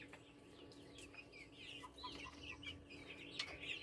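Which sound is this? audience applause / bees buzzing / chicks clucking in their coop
chicks clucking in their coop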